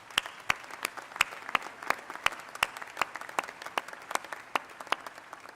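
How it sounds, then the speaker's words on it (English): Applause from a university commencement audience for friends and family. A few distinct, loud hand claps stand out in an irregular rhythm over a softer, scattered background of clapping. "would you take a moment to join me in giving our friends and family a round of applause?"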